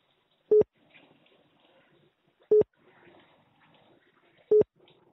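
Telephone busy signal on an unanswered call: three loud, short identical tones spaced about two seconds apart, with faint background noise between them.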